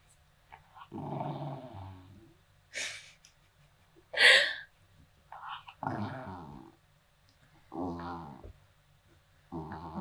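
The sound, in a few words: dog growling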